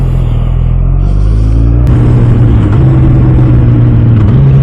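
Yamaha FZ1 motorcycle engine revving up, a loud close rumbling drone that climbs in pitch in steps, with no talk over it.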